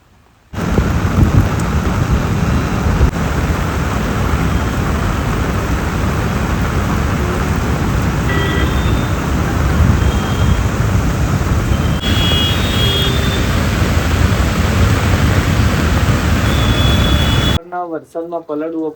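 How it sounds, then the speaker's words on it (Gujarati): Heavy rain pours on a rooftop terrace in a city during a storm, a loud, dense, continuous roar with thunder rumbling through it, heard close under an umbrella. "શું ચકાચક વરસાદ આવી રહ્યો છે બોસ."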